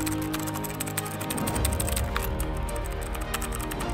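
A new computer keyboard is typed on in quick, uneven bursts of close clicking taps under a steady background hum, with no talking.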